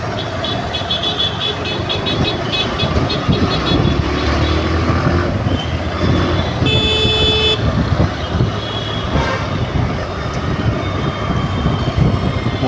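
Busy city traffic in Surat with repeated honking horns over a dense rumble of engines, including a sharp, bright horn blast partway through and several shorter toots from nearby vehicles.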